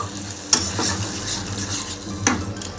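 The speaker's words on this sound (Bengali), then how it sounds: "দিয়ে 1 মিনিট ধরে ভালোভাবে মশলাটা আমি কষিয়ে নেব" Spice paste for prawn malai curry sautés in a pan with a splash of water, sizzling steadily as a spatula knocks against the pan twice.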